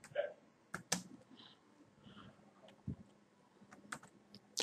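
Rapid, irregular clicks of a computer keyboard as someone types a name in capital letters for a data-entry sign-up form, the keystrokes close and fairly quiet with short bursts and pauses.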